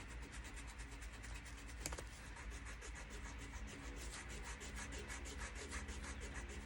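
A white eraser rubs back and forth across a page of an old French book, erasing pencil marks, giving a steady, close scrubbing and rasping texture in quick repeated strokes with no talking.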